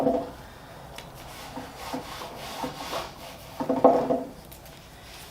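A cloth rubs paint off large wooden sign letters in short scrubbing strokes, a dry close rasping that swells and fades with a stronger burst near the end.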